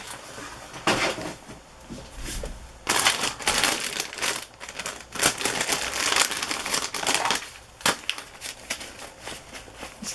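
Crisp crinkling and rustling of a small pack of mulberry paper being handled, irregular bursts of crackle close by with short pauses between, no talking.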